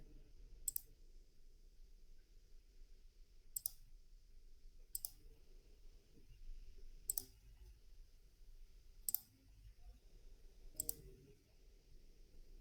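A computer mouse clicks six times, in sharp, isolated, close clicks spaced a second or two apart, over a quiet low hum.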